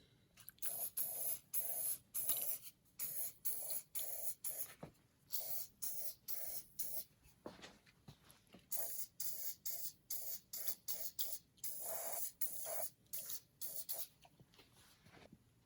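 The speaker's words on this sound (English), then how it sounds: "so we'll spray some lube from this side as well" Lubricant is sprayed onto a seized piston in a 1948 Ford 337 flathead V8, heard as a quiet series of short, rhythmic hissing bursts with brief gaps between them.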